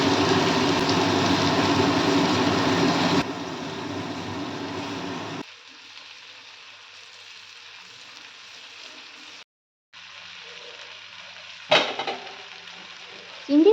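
Prawns frying in hot oil in a wok, a loud, dense sizzle at first that steps down twice to a quieter crackle, with a few scraping clatters near the end.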